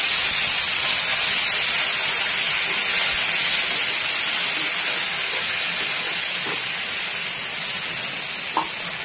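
Half-crushed tomato hits hot tempering oil for a light, low-oil fish curry and sets off a loud, continuous hissing sizzle that stays strong and close throughout, with only a few faint knocks.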